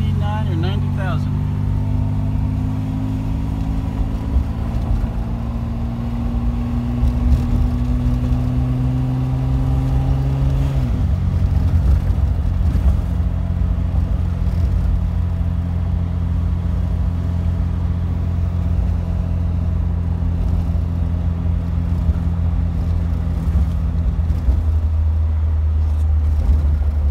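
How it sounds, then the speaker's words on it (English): Mercedes 280SL engine running while driving, a steady close mechanical hum that rises in pitch, drops abruptly as the gear changes, then holds a lower drone; a voice talks over it. "The car runs just like it's brand new."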